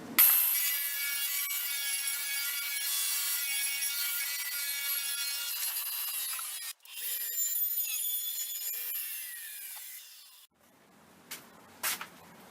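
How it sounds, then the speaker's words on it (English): Saw ripping an eighth-inch poplar strip from leftover face-frame wood, a steady high whine of the cut lasting about ten seconds with a short break, then the blade winding down, followed by a few faint clunks. "probably an 1/8 inch strip of poplar that I'm going to rip off the leftover wood from the face frames"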